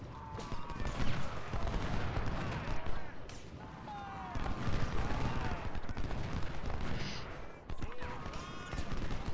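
Sustained video game gunfire in a Civil War–era Realism Mod battle at Potomac Fort, with crackling musket volleys and overlapping shots rolling on continuously under battlefield noise.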